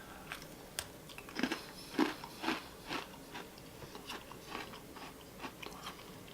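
Close, quiet crunches of a Kettle Corn Oreo cookie, a golden sandwich cookie, being bitten and chewed, a series of crisp irregular bites and mashing with no talking.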